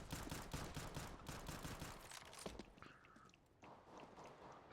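Rapid Glock pistol fire crackles in Counter-Strike (CS:GO), dense volleys of sharp shots for about two and a half seconds, then fading to sparse, quieter pops and faint movement.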